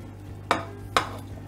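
Two short scraping strokes of a spoon through risotto with pre-fried mushrooms in a pan, close and fairly soft, separated by a brief pause over a low steady hum.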